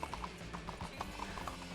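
A horse's hooves clip-clop in a steady rhythm in the RedM roleplay game, moderately faint over a constant background hiss.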